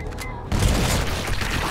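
A loud, close explosion in the video game 7 Days to Die, with a sudden broadband burst about halfway through followed by sustained rumbling debris noise.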